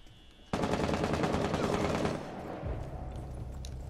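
A shotgun blast hits a reinforced hatch in a video game, an abrupt loud burst followed by about two seconds of dense crackling debris and rumble, then a low lingering tail.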